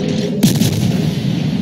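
Naval gunfire from a warship in the World of Warships video game: a sharp, loud blast that cuts in abruptly and rumbles on through a dense, steady background of battle noise.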